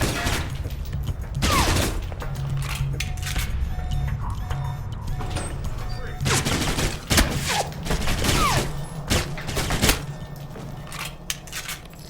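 Gunfire in the game Alpha Protocol comes as sharp, loud shots in bursts, with clusters near the start, middle and end and quieter gaps between them.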